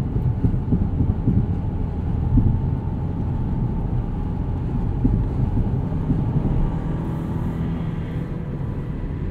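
A 2021 Mazda CX-30 Premium FWD, heard from inside while cruising on a highway: a steady low road and engine rumble with wind and tyre roar that stays constant throughout, with no voices.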